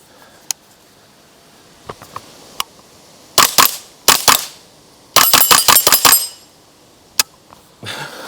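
A Ruger 10/22 rimfire rifle fires in bursts, two or three close cracks and then a rapid string of about six shots, with a few faint distant reports and small clinks between them.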